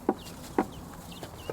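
A few chickens cluck softly near a coop and run, short separate clucks spaced apart, fairly quiet with no talk.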